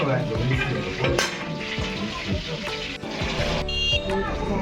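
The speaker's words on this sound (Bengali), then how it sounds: "এখানে এখন পকোড়া ভাজা চলছে" Pakoras frying in oil, a busy crackling sizzle with scattered clinks from utensils, close and steady throughout.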